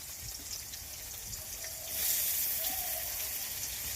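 Garlic frying in oil, a steady hissing sizzle throughout that swells brighter and louder about halfway through, close by with no voices.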